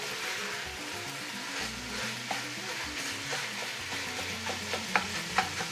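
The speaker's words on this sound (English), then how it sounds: "And just stir it up." Chili meat is stirred and broken up in a pot over steady sizzling, with a spoon scraping and tapping sharply against the pot toward the end, close and continuous.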